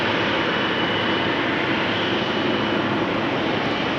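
Boeing 777-200 airliner taxiing at Amsterdam Schiphol Airport on a rainy day, a steady, loud jet engine roar with a constant broadband rush and no voices.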